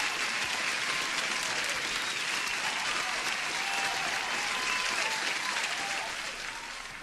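Steady crowd applause with dense clapping throughout, loud and continuous for several seconds before easing slightly at the end.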